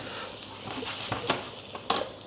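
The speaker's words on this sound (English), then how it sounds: "Start to hear the pancetta sizzling a little bit." Pancetta sizzles softly in a pan, a quiet steady crackle with a few sharper pops and faint stirring clatter.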